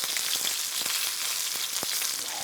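Cajun chicken pieces sizzle and fry steadily in a pan, with soft clicks and scrapes as they are flipped over.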